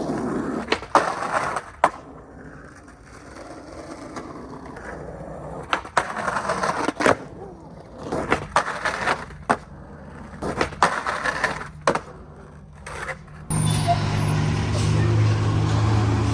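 A skateboard on new trucks grinds repeated 50/50s along a small curb, with rolling wheels, sharp pops and scraping grinds spaced across the stretch, and a louder traffic rumble taking over near the end.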